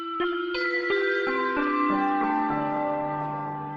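Lo-fi synth keys built in Ableton Wavetable: a slow descending line of sustained tonal notes that overlap and ring out, with a soft drifting character and steady moderate loudness, and no voices.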